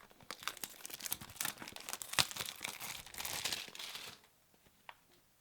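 Crinkly plastic shrink wrap torn and peeled off a MetaZoo Dark Tribal starter card deck, a close, busy stretch of crackling and tearing lasting about four seconds, then near silence with one last faint crinkle.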